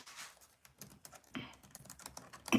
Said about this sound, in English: I'm typing this in the chat